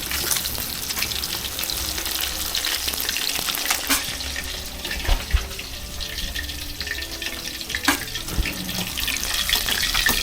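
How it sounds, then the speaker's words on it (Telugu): Pieces of fish fry in oil for a fish gravy, giving off a steady, dense sizzle. Occasional scraping clicks from stirring punctuate it, and no voices are heard. "ముక్కలన్నీ ఇంతే వేయించుకోవాలండి ఎర్రగా."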